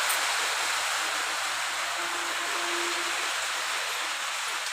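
Heavy rain falls and flows in a steady, dense broadband wash of water that stays even and close throughout, with a faint low hum beneath it.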